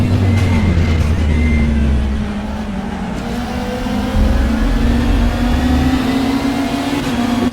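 A Renault race car's engine drones loudly and continuously in a sim racing game, its pitch climbing and shifting under other cars running close alongside.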